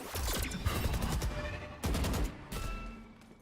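Rapid bursts of rifle fire ring out in a Valorant esports match between OpTic Gaming and XSET, loud close volleys with short gaps and a second flurry partway through, no talk over it.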